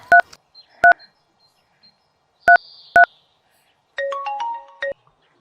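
A telephone is dialed with several short, loud keypad tones spaced irregularly, followed by a longer warbling ring tone pattern close by.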